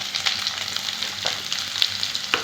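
Curry leaves and onions sizzling in hot groundnut oil, a steady crackling fry close by with sharp spits and pops scattered through it.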